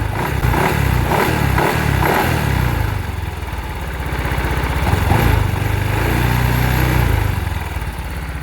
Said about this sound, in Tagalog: Bumabibrate yung kaha saka yung mga tornilyo